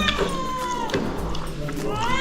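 A cat gives a couple of drawn-out, wavering meows close by, over background household noise and a murmur of voices.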